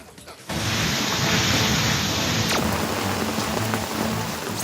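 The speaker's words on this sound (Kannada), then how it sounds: "ಜಿಲ್ಲೆಯಾದ್ಯಂತ ನಿರಂತರವಾಗಿ ಮಳೆ ಆಗ್ತಾ ಇದೆ" Continuous heavy rain pours in Tumkur district, Karnataka, a dense, steady hiss of drops on surfaces that swells in after a brief quieter moment and holds loud and unbroken, with a faint distant rumble beneath.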